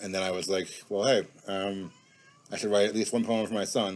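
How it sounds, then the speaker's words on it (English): A house cat meows in the background while someone talks, with one drawn-out meow coming through in a gap between his phrases. "I don't know if you can hear my cat in the background."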